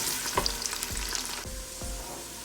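Chopped onion sizzles in hot oil in a pan for mutton palao, a steady frying hiss broken by a few soft stirring scrapes and clinks, with no talk.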